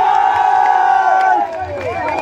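Crowd at a stage show in Hajipur cheering and shouting, loud and close, with voices and whistles over a dense roar that eases slightly toward the end.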